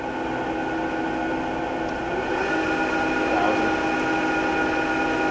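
A Bridgeport Romi EZ Path 17 x 40 inch lathe spindle runs at about 500 RPM with a 5C collet closer fitted, giving a steady, continuous mechanical whir and hum at even loudness throughout, with no talking.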